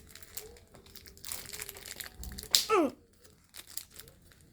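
Taped card pack packaging being opened by hand, with close crinkling and rustling plastic that builds into a sharp tearing burst of tape before settling to softer handling sounds.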